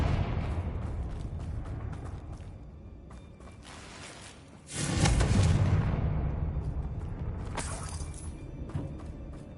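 A Confringo blasting spell in Hogwarts Legacy sets off a sudden loud explosion with a shattering crack, followed by a rumbling tail and scattered debris, after a stretch of quieter ambient noise.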